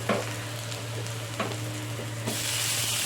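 Green chillies and tomato fry in a pan over medium heat with a steady hiss and crackle, broken by a few light stirring scrapes, and the sizzle grows brighter toward the end.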